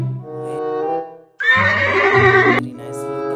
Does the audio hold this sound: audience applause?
no